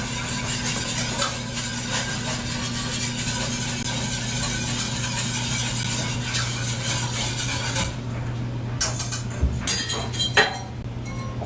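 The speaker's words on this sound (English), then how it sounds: "I'm going to stir those so they don't get clumpy and let those cook." Stone ground grits are stirred in a pot on low heat, a steady soft scraping with occasional metallic clinks of the spoon against the pot over a constant background hum, with no talking.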